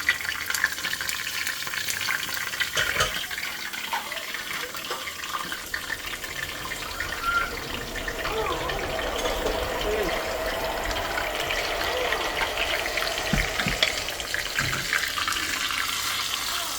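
Spices tempering in hot oil for dal dhokli make a continuous broadband hiss and crackle, fairly close and steady from start to end, with a few brief knocks and a faint voice now and then underneath.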